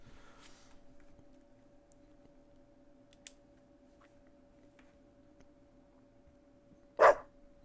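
A single short, sharp dog bark sounds near the end in the video game Deadly Premonition 2, loud against an otherwise quiet background with a steady low hum and faint scattered clicks.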